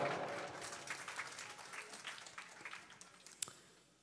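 Applause at a 2019 church banquet: a crowd claps steadily, loud at first and then fading gradually to a thinner patter, with a sharp single clap near the end.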